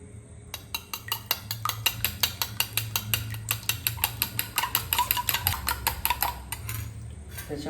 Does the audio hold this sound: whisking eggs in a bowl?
yes